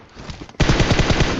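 Automatic gunfire in the PUBG Mobile video game opens after a quiet moment, a rapid, loud burst of evenly spaced shots that runs to the end.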